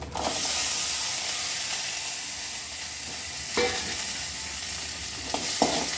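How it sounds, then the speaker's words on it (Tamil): Small onions and coriander seeds sauté in hot oil for a mutton gravy, giving a continuous close sizzle with occasional scraping stirs, no voices over it. "நல்லா வதக்கிக்கலாம் சின்ன வெங்காயம் லைட்டாக கலர் மாறட்டும்"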